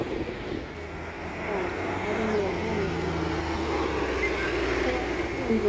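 Steady road traffic roars continuously close by outdoors, a dense wash of passing cars and engine noise with no break.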